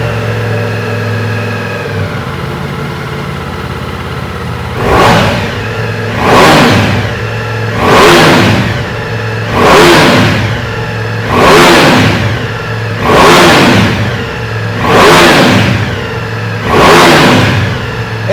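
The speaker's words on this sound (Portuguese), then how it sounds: "se liga só o ronco dessa moto com esse escapamento original" Ducati Multistrada V4 Rally 2024 motorcycle on its original exhaust, loud and close: a steady idle, then eight sharp throttle blips at a regular rhythm, each rising into a roaring rev before dropping back.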